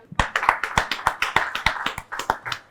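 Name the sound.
audience applause for a speaker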